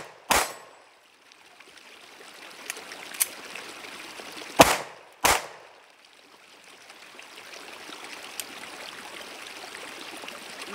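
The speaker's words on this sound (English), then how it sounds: "I've been practicing dry firing, but never live fire, so this is my first live fire." Live handgun shots fired after drawing from appendix carry, comparing a Glock 43X and a Sig Sauer P365: three sharp loud bangs, one early and two close together midway, over steady outdoor background noise.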